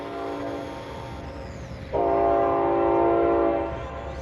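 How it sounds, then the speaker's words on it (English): A train rumbles steadily in the distance, then its horn blows one long, sustained blast lasting over a second before fading back into the low rail noise; no voices. "Sorry about the train in the background."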